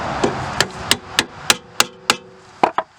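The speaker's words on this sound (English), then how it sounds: "put the nut back on, tap it with a hammer" Steady metallic hammer taps on an axle nut of a 2003-2007 Honda Accord, about nine evenly spaced strikes over a low background hum, with a quick double tap near the end.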